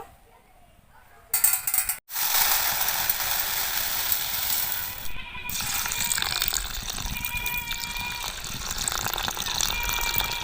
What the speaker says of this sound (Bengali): ডালটা আমি ভালোভাবে ধুয়ে নেব।